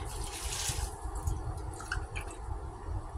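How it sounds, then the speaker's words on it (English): Lactose-free milk pours into a pot, a soft liquid stream with light splashes and drips over a low background rumble, and no one speaks. "so we're going to put the milk in."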